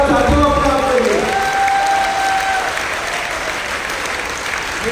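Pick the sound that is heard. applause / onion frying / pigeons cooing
applause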